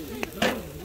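Lamb and pork sizzling over a charcoal barbecue grill at a campsite, a short crackling sizzle with a couple of sharper pops, close and brief.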